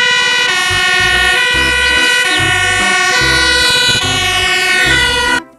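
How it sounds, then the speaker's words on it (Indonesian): An electronic toy fire truck siren wails loudly and continuously over a steady pulsing beat, running without pause for several seconds with no talking. "mobil pemadam kebakaran"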